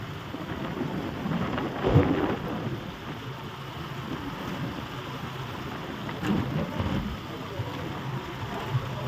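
Steady rain with a low rumble of thunder, a soft continuous hiss with two dull swells of rumble partway through, heard at a moderate distance.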